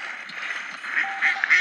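Cartoonish duck quacks from the tank-battle video game World of Tanks Blitz, several short honking calls repeating toward the end over a steady hum of game noise.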